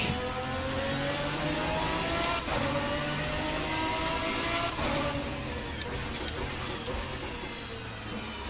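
A GT1 race car at Okayama circuit in Assetto Corsa holds a steady, loud engine drone with shifting revs throughout, a faint brief swell partway through, no talking.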